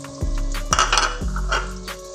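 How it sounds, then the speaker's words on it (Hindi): Tomatoes going into a pot for daal chicken: a few clinks and scrapes of a utensil against the pot, with a soft sizzle underneath, close and clear with no talking. "अब टमाटर डालते हैं।"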